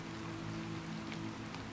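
Steady rain and sleet pattering on a surface, a dense even hiss of drops that stays constant throughout over a low hum, with no voices.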